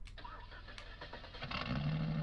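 A half-ton pickup truck with a modified exhaust in Farming Simulator 19 starts up and settles into a low, throaty idle. A few clicks and clunks come first, then the engine rumble swells louder and steadier toward the end.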